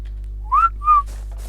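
Two short rising whistles in a video game call the park staff. They sound clean and distinct over a steady low electronic hum, followed by faint soft noise.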